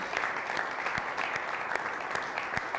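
Continuous applause and scattered cheering from a church congregation, dense and steady across the whole stretch, with no talking over it.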